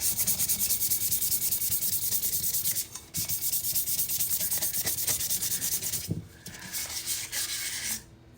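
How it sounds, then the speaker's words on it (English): Steady abrasive rubbing of sandpaper worked up and down over a spun metal surface to strip off gunk, continuous and close with brief pauses near three and six seconds. "to do this right, the first thing you have to do is sand"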